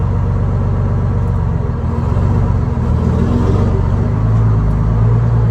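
A 1973 American LaFrance Pioneer fire truck rumbles as it drives, its engine steady and loud throughout with a low, continuous growl close by.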